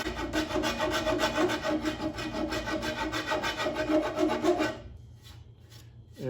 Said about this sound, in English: I like a 4-way rasp